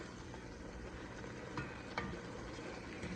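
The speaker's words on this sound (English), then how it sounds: "Now once you've added this all in, mix all that in together." Leeks and potato soup ingredients in a pot give off a steady, fairly quiet sizzle while being mixed, with a few faint scraping clicks from the stirring.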